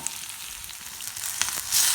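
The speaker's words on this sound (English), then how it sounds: "Nice wooden spoon, and we will roast them all together" Black sesame seeds and onions roast together in a pan while a wooden spoon stirs them, making a soft continuous sizzle with scattered scrapes and a louder burst of frying near the end.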